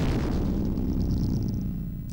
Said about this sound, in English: That explosion kind of sounded like a fart.